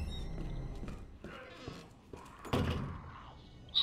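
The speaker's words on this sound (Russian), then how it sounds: "Что-то громко дверь-то открыл." A door in the survival-horror game Resident Evil 2 swings open with a loud, creaking, rattling burst partway through, amid low in-game ambience and scattered clunks.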